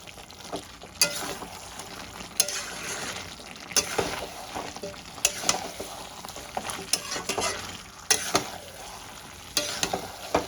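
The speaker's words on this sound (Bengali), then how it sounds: "এবার সব মশলাগুলো আমি ভালো করে মিশিয়ে নেব।" Spice-coated chicken with coriander powder, turmeric and red chili powder being stirred in a pan, a steady scraping and sizzling with sharp spoon knocks every second or so, close and alone.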